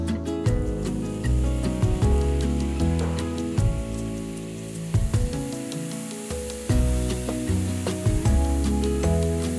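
Finely chopped tomato goes into a hot pan for a mushroom pepper masala, raising a steady sizzle that runs under prominent background music throughout.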